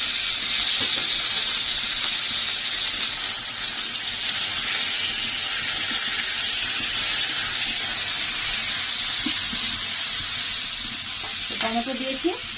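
Tomatoes go into onions frying in oil in a pan, giving a steady, moderately loud sizzle and hiss with a brief clatter of stirring near the end.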